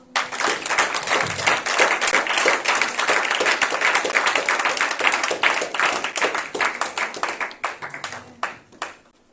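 A church congregation claps loudly and steadily for several seconds, a dense burst of applause from many hands that thins out and fades near the end.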